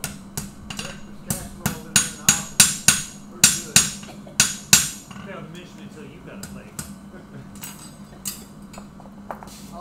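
A blacksmith hammers hot metal on an anvil, rounding up a foot over the edge, about a dozen ringing metallic blows in a quick rhythm, then quieter taps under faint talk.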